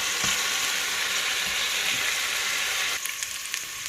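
Chopped onion sautés in a hot pan for a Jamaican-style steamed doctor fish dish, a steady close sizzle and crackle with a few soft knocks, easing slightly near the end, no talking.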